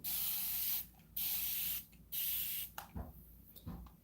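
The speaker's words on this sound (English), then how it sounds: "Now, I like to use a fine mist spray bottle like this one." A fine mist spray bottle hisses water onto matted hair in three close, sustained bursts, followed by soft rubbing and handling sounds.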